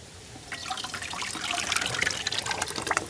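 Crushed mango juice being poured for pani puri, a steady close trickle and splash of liquid that swells after the first half second and keeps running with no one talking.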